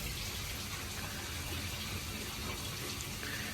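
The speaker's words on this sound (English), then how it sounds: "that's now starting to fill back up with water from bleeding it" Water rushing steadily into a pond filter sieve as it refills after air is bled out through the bleed valve, a continuous broadband gushing close by with no voices.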